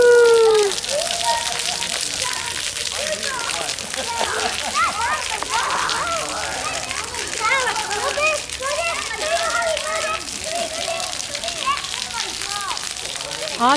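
Kids playing in a swimming pool at a vineyard water play area, with continuous splashing and sloshing water, excited children's shouts and chatter, and adult voices mixed in.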